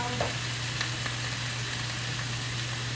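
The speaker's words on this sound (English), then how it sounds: "Then I got the bacon and an onion. Okay, so I'm going to stir this" Bacon and onion fry and get stirred in a pot for baked bean chili, a steady close sizzle with a constant low hum and a few soft scraping stir sounds, no talking.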